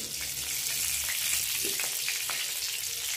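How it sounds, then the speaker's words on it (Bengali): Dry red chillies, cardamom, cloves and cinnamon frying in hot oil left from frying jackfruit, making a continuous close sizzle with faint crackling and no talk. "ইঁচড় ভাজা তেলে দিয়ে দিচ্ছি দুটো শুকনো লঙ্কা, এলাচ, লবঙ্গ, দারচিনি,"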